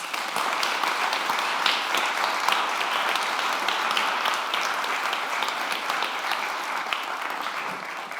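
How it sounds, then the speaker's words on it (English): An audience at a care awards ceremony gives a round of applause, many hands clapping in a steady, full burst that carries evenly throughout and tapers only slightly at the end. "So we'll just give her a round of applause."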